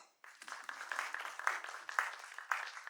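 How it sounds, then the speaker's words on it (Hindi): An audience claps at a Mumbai film teaser and book launch event for actor Rainbow, a dense patter of applause starting abruptly after a brief silence and continuing steadily with small swells. "तो एक बार प्लीज तालियां"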